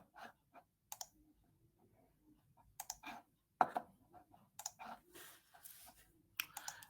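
A few sharp mouse clicks at a computer desk, scattered and fairly quiet, with soft keyboard taps and faint background noise between them.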